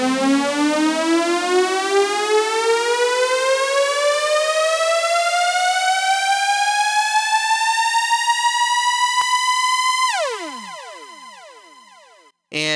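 Synth riser patch with delay: a bright, harmonically rich tone sweeps steadily upward in pitch for about ten seconds, then cuts off as echoing repeats fall away and fade, with a brief loud hit at the very end.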